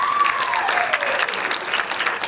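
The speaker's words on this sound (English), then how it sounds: "Please give all of our soloists another round of applause." A school jazz concert audience claps for the soloists in a sustained, dense round of applause that carries evenly through the whole stretch, with a faint voice briefly over it at the start.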